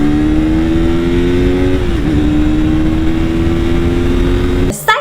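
A KTM RC160 sports motorcycle engine runs loud and close in a steady, buzzing drone. Its pitch briefly dips and climbs back around midway, then the sound breaks off abruptly near the end with a short clatter.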